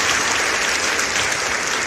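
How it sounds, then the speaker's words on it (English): Dense burst of audience applause, many hands clapping at once in a steady, loud wash that lasts under two seconds without a break. "He needs a round of applause."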